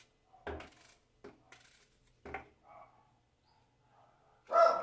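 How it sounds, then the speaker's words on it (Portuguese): Dogs bark a few times nearby in short separate bursts, with a louder bark close at the end, in a home kitchen during a pause while apple juice is being made. "os cachorros dando a latir"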